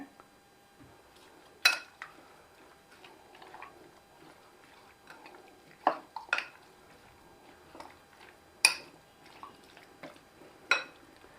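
Chicken pieces being mixed with ginger garlic paste and salt for Hyderabadi-style dum biryani, heard as faint, scattered clinks and soft wet taps of a utensil against the bowl, spaced irregularly in a quiet room.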